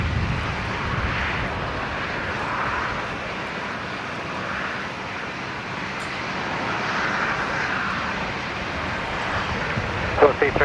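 Boeing 737 airliner at Brisbane Airport's domestic terminal, its engines a steady distant roar under wind noise, while someone talks throughout.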